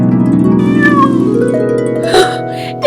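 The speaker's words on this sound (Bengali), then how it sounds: "এই তো আমার ম্যাও ম্যাও" A cat meows in an animated comedy scene: one loud, close, drawn-out wavering cry that slides in pitch, ending with a sharper sound at the close.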